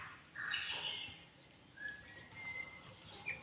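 A green leafbird (cucak ijo) gives faint, scattered whistled chirps and short sliding notes over soft background hiss, with several brief calls spread across a few seconds.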